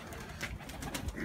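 A sick pigeon cooing softly in a pigeon loft, low, muffled coos close by, with faint background rustling.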